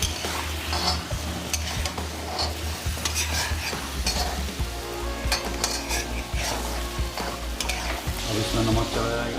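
Garlic-ginger paste fries in a karahi for a Peshawari namkeen karahi, a loud, busy sizzle with constant stirring, metal scraping and clatter against the pan throughout.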